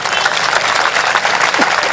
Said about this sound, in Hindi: लेकिन मैंने अभी ताली नहीं बजाई, तुमने बजाई है।